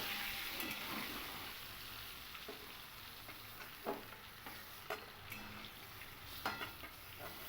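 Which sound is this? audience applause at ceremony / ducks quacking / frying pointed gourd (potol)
frying pointed gourd (potol)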